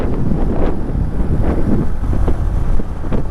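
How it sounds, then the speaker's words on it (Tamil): Cool wind blows hard during a motorcycle ride, a loud, continuous rumbling buffet that roars close to the microphone without a break. "அப்படியே நல்லா சில்லுன்னு காற்று அடிக்குதுப்பா"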